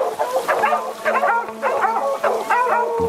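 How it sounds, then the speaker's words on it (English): Several dogs bark and yip in quick repeated bursts, close and loud, over a steady low hum. "Good dogs, good dogs,"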